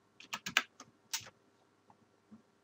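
Someone types on a computer keyboard, a quick burst of close, clicky keystrokes in an uneven rhythm, then a couple of sparse taps in a quiet room.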